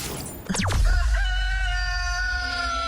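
A chicken sound effect dropped into a radio podcast segment, with a sudden swoop into a loud sustained call that rings out over a low rumbling bed, more like a rooster crow than soft clucking.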